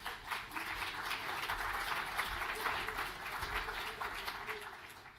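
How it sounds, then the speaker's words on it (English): Audience at a film commission summit applauds a panel, a dense, continuous crowd clapping that swells and holds steady in a large room, with a low rumble beneath. "Please give them a round of applause."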